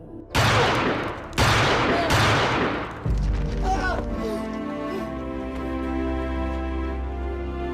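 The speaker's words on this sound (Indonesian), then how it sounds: "Tidak lama kemudian terdengar suara tembakan" Three loud, sharp gunshots in a film ring out in quick succession, followed by a deep boom that fades into a sustained rumbling, tonal backdrop.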